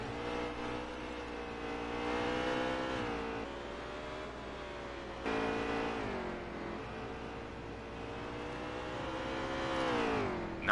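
A race car engine in the NASCAR Heat 3 video game at Mid-Ohio revs loudly and steadily, its pitch climbing and dropping through gear shifts, with the whine of other cars around it.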